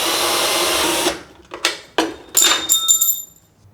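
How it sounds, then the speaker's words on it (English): A power drill runs steadily to back out a long screw on a GE Profile washer, then stops. Several short stuttering drill bursts and creaks follow. "we're gonna use a drill and we're gonna remove this screw right here"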